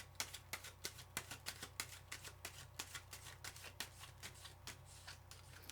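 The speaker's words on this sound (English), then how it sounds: "Another shuffle." Tarot cards are shuffled by hand in a quick string of crisp, close riffling taps, roughly evenly spaced over several seconds, against a quiet background.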